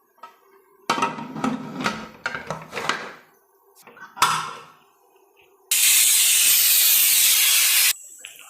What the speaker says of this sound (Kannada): ಈಗ ಮೂರು ಇಜಿಲ್ ಕೂಗಿದೆ ಕುಕ್ಕರ್ನ ಓಪನ್ ಮಾಡ್ತೀನಿ